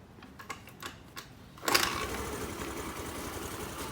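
Honda Dio scooter with starting trouble: a few quick mechanical clunks from the kickstart, then the small engine catches and runs with a close, steady rattling putter.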